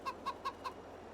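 Four short, evenly spaced clucks from video game chickens inside a small hen house with beds and roosts, fairly close and clear over a faint, steady background hum.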